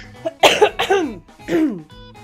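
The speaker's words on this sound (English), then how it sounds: "I'm probably gonna cough and hack a little bit" Several harsh, wet coughs from a man, bursting out in quick clusters close to the mic, with a short throat-clearing hack at the end and no talking.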